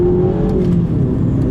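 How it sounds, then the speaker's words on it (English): A Mini Cooper S pulls hard through the gears, its engine droning loud and close as the pitch holds steady with a few faint pops from the exhaust. "you just put your foot down, let it crackle and pop, and then you go up to 5th gear"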